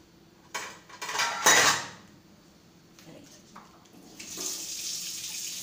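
A spoon is picked up from among dishes in a kitchen, with close metallic clinks and clatter over running tap water and splashing in a sink. No one speaks.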